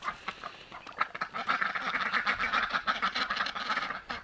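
Ducks quack in a noisy cluster as they are let out, overlapping nasal calls coming in rapid irregular bursts, fairly close and growing busier after the first second.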